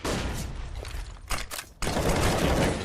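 Tec-9 pistol fire in a Counter-Strike match, heard as dense rapid gunfire bursts that are loud and close, broken by a short gap and then resuming.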